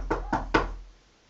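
Three sharp knocks land on a door in quick succession, close and fairly loud, the last slightly harder, followed by quiet.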